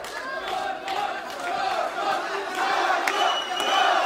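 A boxing crowd in Pyatigorsk reacting as the third round of a 60 kg bout begins, a steady roar of cheering and shouting with scattered claps that swells slightly toward the end.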